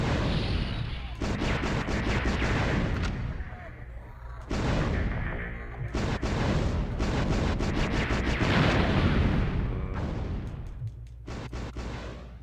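Cannon fire in the shooter game Einhander, heavy booming shots and explosions pounding almost continuously with only brief lulls, loud and close throughout.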